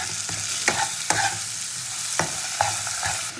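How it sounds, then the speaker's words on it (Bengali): Chopped onion and tomato fry in a pan with salt and turmeric, a steady sizzle broken by several sharp scrapes of a spatula stirring against the pan, close and fairly loud with no talking. "পেঁয়াজ টমেটোটা ভাজতে ভাজতে দিয়ে দেবো আমি প্রথমে আদা বাটা।"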